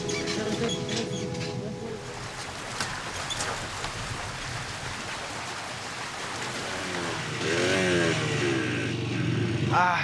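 Motorcycle engine running on a Colombian border smuggling track, steady idling and revving throughout with rain-like noise and a few distant voices at the end, fairly close.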